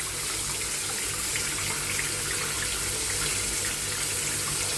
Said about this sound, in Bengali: তো জামগুলো আমি ভালো করে ধুয়ে নিচ্ছি।